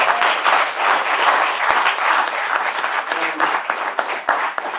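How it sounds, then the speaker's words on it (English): Sustained audience applause for four panelists at a forum on Black communities, a dense, steady wash of many hands clapping close and loud throughout, with a few sharper individual claps near the end. "Let us give our four panelists a big round of applause."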